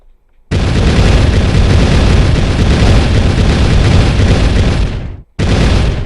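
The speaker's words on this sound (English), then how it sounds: "it shoots out and blows up the nearest 100 balloons on screen" Rockets exploding and popping balloons in the video game Bloons TD 5, a loud continuous roar of bursts that cuts off abruptly and then resumes.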